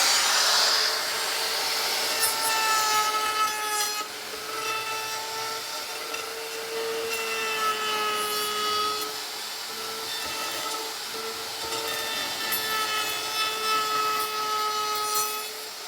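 A power router cuts the ends of wooden legs for a mobile cart, a loud, close, high whine with wavering pitch that dips as the bit bites into the wood, no talking.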